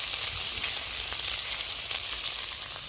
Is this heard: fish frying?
yes